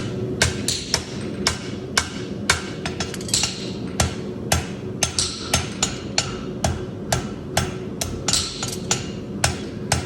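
A farrier hammers a steel horseshoe on the horn of an anvil, forging a trailer and extended heels, with sharp ringing blows in quick irregular runs, close and clear, with no talk.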